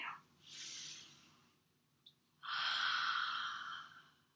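A deep inhaling breath drawn slowly during a vinyasa yoga session, followed by a longer, louder exhaling rush of air; close and soft, alone in a quiet room.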